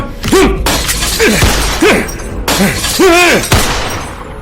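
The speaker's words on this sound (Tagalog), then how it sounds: "Basag ang salamin ng terrace." A terrace glass window shatters as an audio drama sound effect, with repeated loud crashing bursts of breaking glass layered over swooping, wailing eerie tones.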